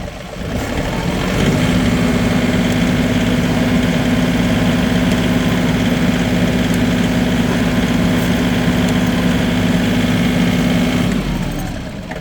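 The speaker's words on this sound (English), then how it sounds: "Now I'm going to idle this thing up and see if I can shake some of this dirt off." A post hole digger's small engine idles up to a steady, loud running drone with a constant low hum, held for about ten seconds before dropping back, with no talking over it.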